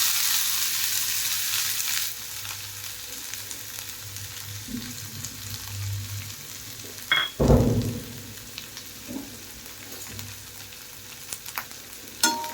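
Finely chopped onions fry in a pan with a continuous crackling sizzle, and a burst of louder stirring clatter comes midway before the frying settles again.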